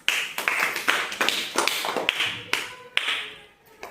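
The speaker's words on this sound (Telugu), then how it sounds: "క్లాప్స్" Children clapping in a primary classroom: a close run of sharp, uneven claps and taps that rise and fall in a loose rhythm for a few seconds, then trail off.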